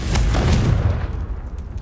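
A Confringo spell explosion in Hogwarts Legacy, a single deep, loud boom that rumbles heavily at first and then fades into a softer decaying tail, with no talking.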